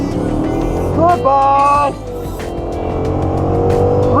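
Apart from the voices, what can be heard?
Procharger-supercharged car accelerating hard from 0 to 60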